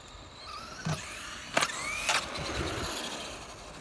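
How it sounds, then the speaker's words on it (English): A Traxxas Slash RC car fitted with optional upgrade parts accelerates and drives, its electric motor whining in rising and falling sweeps with several sharp bursts as it speeds up, heard fairly close. "I want to get a little bit of speed gathered and then really give it some gas there at the end"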